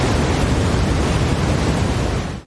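Brown noise with a soft rain-like character, a steady low-weighted hiss that holds at an even, loud level throughout before cutting off at the end, with no talk over it.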